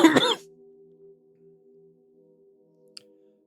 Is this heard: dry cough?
yes